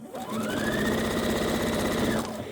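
A sewing machine runs in one steady, loud, continuous burst as it stitches the pieces of a 4-patch quilt together, starting and stopping cleanly with no talking.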